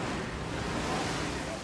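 Storm surge waves from Hurricane Sandy striking a New York shoreline: a steady, broadband roar of rushing water and wind, unbroken and fairly close throughout.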